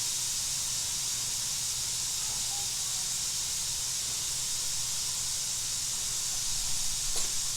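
About a pound of 80/20 ground beef sizzles in a skillet, a steady, dense hiss that holds evenly throughout, close and loud, with no voices.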